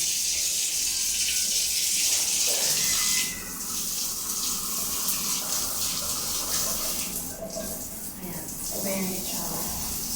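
Water runs from a faucet in a newly turned-over condo unit to check water pressure, a steady broadband rush for the first three seconds, then continuing more softly with small splashes and clatters.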